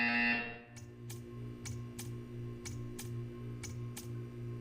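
Short repeated buzzer tones from the video game Portal 2 pulse in an even rhythm, about eight quick beeps over a low humming background, with no voices.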